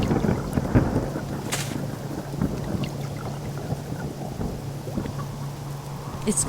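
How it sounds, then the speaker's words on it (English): Steady rain pours down in the video game Subsistence while low thunder rumbles continuously in the background, with occasional sharper crackles. "I definitely do without this rain."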